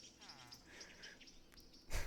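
Birds chirp softly in Minecraft, a faint, continuous scatter of tweets in the ambient background, with a louder broadband burst near the end.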